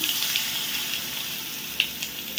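Crushed garlic, asafoetida and turmeric sizzle in hot oil with mustard seeds and cumin: a close, steady crackling fry with a few sharp pops, and no talking.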